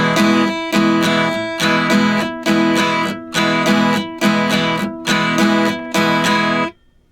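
Latin-style acoustic guitar strumming in 3/4, a steady down-up chord pattern with light muting, played solo and close with even rhythmic bursts until the last chord cuts off.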